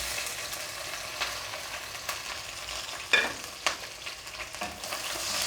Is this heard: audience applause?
no